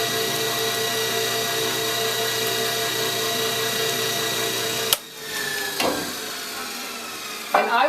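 An electric stand mixer drones steadily as it beats biscotti dough, then cuts off abruptly, followed by a few soft bumps and scraping handling noises near the end.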